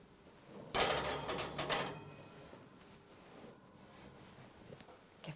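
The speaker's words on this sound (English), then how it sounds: "pull out our oven tray a little bit, get our pastry back into the oven" An oven tray slides out with a scraping, metallic clatter, and a pastry goes back into the oven in a short burst of knocks before the kitchen falls quiet.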